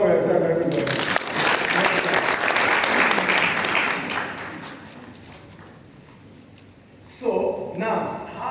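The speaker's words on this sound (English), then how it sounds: "Clap for yourself, everybody." A conference audience at a live summit in Abuja bursts into loud, full applause that holds for several seconds, then dies away before a voice returns near the end.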